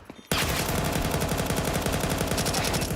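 A Counter-Strike weapon sprays a magazine of about 35 bullets: after a short quiet lead-in, a loud, continuous stream of rapid automatic shots runs unbroken to the end.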